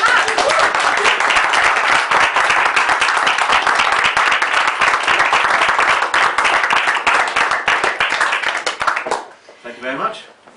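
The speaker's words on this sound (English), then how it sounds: "just a round of applause" A room of guests at a London sporting club dinner applauds loudly and steadily, dense clapping holding for about nine seconds before tapering off, with a few voices rising at the end.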